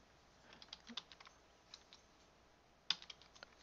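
Quiet, close typing on a computer keyboard during a Minecraft build, with scattered light key clicks in uneven bursts and one sharper, louder keystroke near the end.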